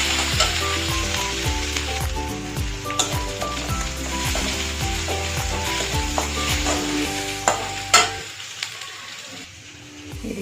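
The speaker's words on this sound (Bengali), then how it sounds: "তো আমি একটু ভেজে নেবো।" Dried red chili frying in a pan at home, a loud close sizzle with crackling pops and stirring clatter, steady then quieting near the end, with no talk.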